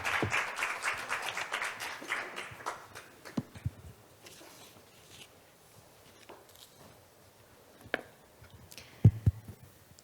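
Clapping at a marine and fisheries science forum as panelists are called to the stage, dense applause at first that thins to scattered claps and taps, with a few louder knocks near the end.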